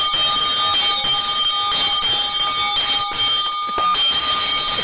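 A hand bell rings steadily and loudly throughout, its bright metallic tones sustained and shimmering over a dense wash of clangs, with no talk.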